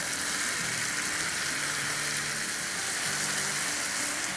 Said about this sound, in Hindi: छोटा चूल्हा है और फ्लेम हाई है। चिकन को उलट पुलट देते हैं।